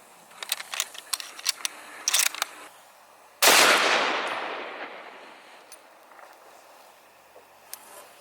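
Single loud, close 8mm Mauser rifle shot outdoors, a sudden sharp blast that rolls off into a long fading echo, preceded by several light mechanical clicks of the rifle being readied.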